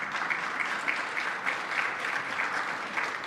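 Applause from members in a provincial legislature chamber, a steady dense patter of many hands clapping at moderate distance, continuous throughout without pause.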